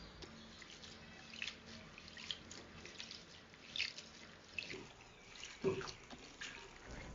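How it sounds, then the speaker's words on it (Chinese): Fresh elm leaves scrubbed by hand in clean water in a kitchen, giving faint, soft sloshing and dripping with a few small splashes, no voices. "倒入清水抓洗干净"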